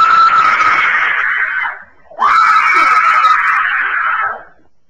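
A woman screams in two long, loud, sustained shrieks with a short breath between them, heard alone and close.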